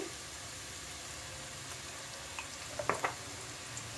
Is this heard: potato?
yes